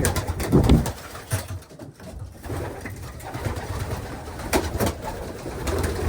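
Male pigeons cooing in the cock section of a bird loft, soft low coos rising and falling near and far, with rustling and brief clatter in between.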